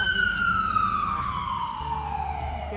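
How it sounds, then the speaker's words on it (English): An ambulance siren passes outside, holding a single loud wailing tone that glides steadily downward as it moves away, with no voices over it. "Wait lang, yung ambulance."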